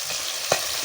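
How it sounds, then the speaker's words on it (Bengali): Fish frying crisp in a pan for pickle gives a steady, close hiss and sizzle with a brief louder spit midway. "প্রথমে আমি এক খোলা ভেজে নিচ্ছি, এরকম কড়া আসবে তো, এরকম আওয়াজ হচ্ছে"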